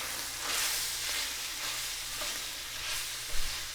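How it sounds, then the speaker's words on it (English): Minced meat fries in a pan for a shepherd's pie while being stirred, a steady sizzle swelling with each pass of the spoon and a brief knock near the end. "Give a nice stir in with our meat"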